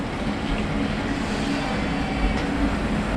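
Barcelona metro subway train, a continuous low rumble and rolling rail noise filling the space, steady and fairly loud with no voices.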